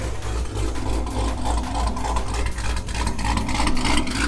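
A Pontiac G8 idles with a steady, loud, low engine rumble close by, with no voices over it.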